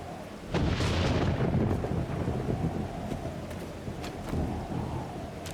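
Thunder rumbles loud and close over a heavy downpour in the video game 7 Days to Die, the rain hissing steadily after the first crash.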